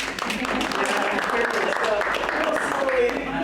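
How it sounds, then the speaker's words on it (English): Steady applause from a crowd, sustained clapping that fills the whole moment without a break. "So give her a round of applause"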